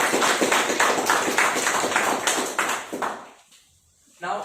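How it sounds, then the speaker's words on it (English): A small audience at a speakers' meet breaks into brisk, rhythmic applause with clear individual claps up close for about three seconds, then it fades into near silence before a voice starts speaking. "A big round of applause for both."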